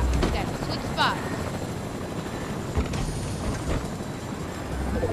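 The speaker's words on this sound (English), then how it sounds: "I'm gonna have to drive the helicopter." Helicopter rotor and engine drone in a Fortnite-style battle royale game, steady and loud throughout with brief mechanical clicks, under occasional player chatter.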